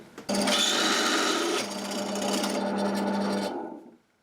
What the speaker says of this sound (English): I can actually use this knackered drill bit to drill through the work surface